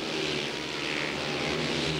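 A speedway motorcycle engine in a 1995 Unia Tarnów versus Wybrzeże Gdańsk race heat drones steadily at a distance, a broad, even buzzing roar with no pauses.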